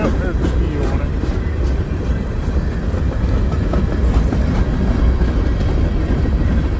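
A freight train hauled by DPU locomotives rolls past close by: a loud, continuous rumble with rattling clatter from the cars, holding steady throughout.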